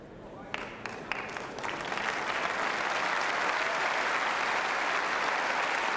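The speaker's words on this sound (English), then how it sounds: "encouraged by applause from the crowd" Steady crowd applause at a lawn bowls world championship, a few sharp claps at first swelling into a dense, sustained wash of clapping that holds to the end.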